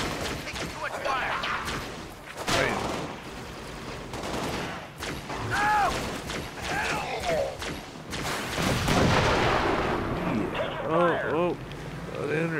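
Gunfire and explosions in the video game Halo: Spartan Assault, with repeated shots and heavy thuds spread across a busy battle mix, played under ongoing voices talking.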